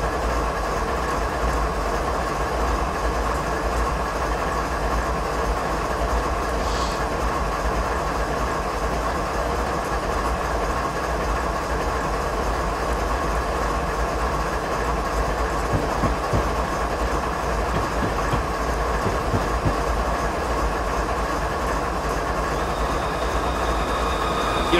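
BNSF ES44DC diesel locomotive running in Train Simulator 2016 on Stevens Pass, a steady loud engine drone with continuous rolling rumble and faint rhythmic wheel clatter, unchanging throughout with no voices.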